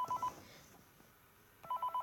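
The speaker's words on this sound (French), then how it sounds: "On va laisser le téléphone sonner." A telephone rings inside a horror-style night-shift video game, short electronic ring bursts at the start and again near the end with a quiet gap between.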